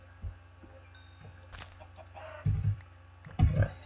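Minecraft chickens cluck in short, soft bursts, a few scattered clucks over quiet game ambience.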